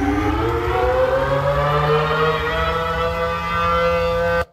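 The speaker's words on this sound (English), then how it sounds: "Sirens are going off." Civil defense sirens wail during a tornado, a sustained rising tone that holds steady and loud, then stops abruptly at the end.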